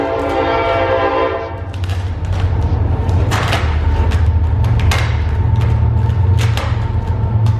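A loud train horn blares steadily at first, then the heavy rumble and rhythmic clatter of rail cars passing close by outdoors.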